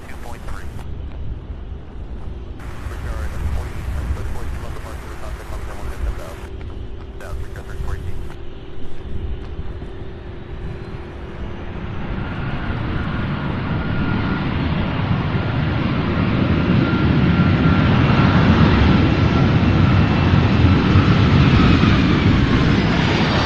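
A UPS Boeing 757 heavy from Ontario, California lands, its jet engines a broad, distant roar that swells steadily over about twenty seconds into a loud rumbling wash, with talk faintly present early on.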